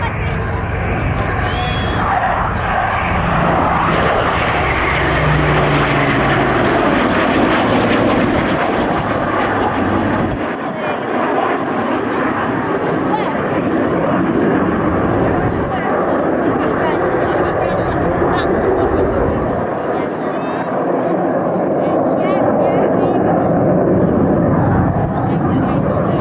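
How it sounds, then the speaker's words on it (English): A Eurofighter Typhoon jet roars through an airshow display, its engine noise loud and sustained with surges, while a commentator talks over it throughout. "here's the Typhoon"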